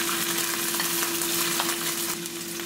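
Cumin and ginger frying in two tablespoons of olive oil for a tadka, a dense, loud, even sizzle with faint stirring scrapes and a steady low hum beneath.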